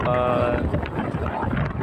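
Riding a motorcycle on a Sunday morning, with heavy wind buffeting over a low continuous engine rumble throughout.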